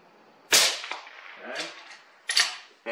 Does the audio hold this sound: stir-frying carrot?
no